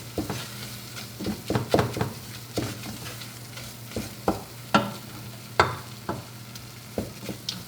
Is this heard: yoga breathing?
no